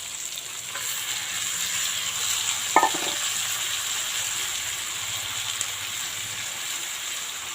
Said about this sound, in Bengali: তো এবার আমি এর মধ্যে মশলাগুলো দিয়ে দেবো